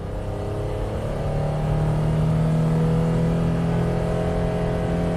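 A Honda with a suspected transmission fault at 100k miles pulls away from a stop with the throttle held steady, a loud, even engine drone that rises slightly as it builds speed.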